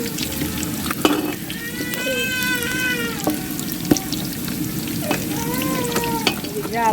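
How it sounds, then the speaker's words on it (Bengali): Ghee sizzling and frying in a pot of pulao, a steady crackling hiss with occasional sharp pops and faint clinks, close and continuous throughout. "এই কিছুটা ঘি দিয়ে দেওয়া হলো সেন্টের জন্য"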